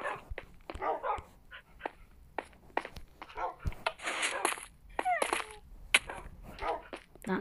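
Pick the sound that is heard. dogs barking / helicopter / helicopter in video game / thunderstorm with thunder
dogs barking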